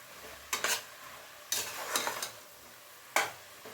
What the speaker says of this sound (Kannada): ಸ್ವಲ್ಪ ಎಣ್ಣೆ ಚೆನ್ನಾಗಿ ಫ್ರೈ ಮಾಡ್ಕೊಳ್ಳೋಣ ಟೊಮೊಟೊ ಮತ್ತು ಶುಂಠಿ ಬೆಳ್ಳುಳ್ಳಿ ಪೇಸ್ಟ್ ಎಲ್ಲ ಸ್ವಲ್ಪ ಬೇಯಲಿ